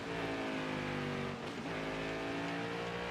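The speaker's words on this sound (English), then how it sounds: "Why did the car downshift?" A NASCAR race car engine downshifting, a loud sustained engine whine that dips and jumps in pitch midway as the gear changes, then resumes a steady high drone.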